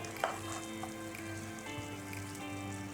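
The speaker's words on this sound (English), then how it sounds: "you're flash frying it now again for the second time" Duck sizzles steadily as it is flash fried a second time in a pan for Indian roast duck, a continuous close crackle with a few sharper pops and no talking.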